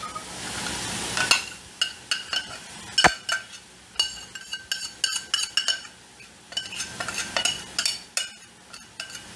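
Sauce goes into ground beef in a pan, with a soft background sizzle under repeated scraping and clinking of a utensil against the pan in an irregular rhythm.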